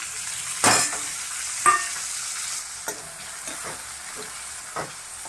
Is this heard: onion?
yes